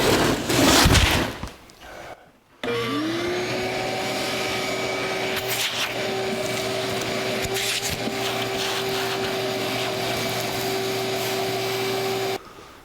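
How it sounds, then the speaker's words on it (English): Vacuum cleaner used to clean parts of a 1982 Jeep CJ7 during a restoration; after brief handling noise it switches on with a rising whine and then holds a loud steady drone until cut off near the end. "Let's start with a vacuum cleaner."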